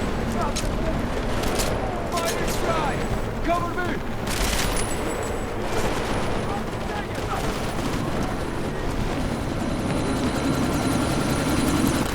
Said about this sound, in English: you need to disable that chopper